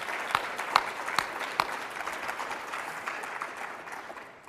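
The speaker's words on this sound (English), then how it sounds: "let's give them a hand of applause" An audience at a CureDuchenne community event gives a round of applause, a steady crowd of clapping with a few sharp nearby claps early on, gradually tapering off.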